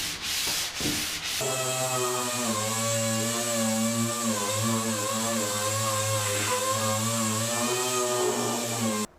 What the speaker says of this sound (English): I'm gonna start sanding this down real quick